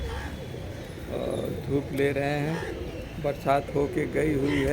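Pigeons coo softly on a sunny rooftop after rain, a few low repeated calls heard under someone speaking nearby.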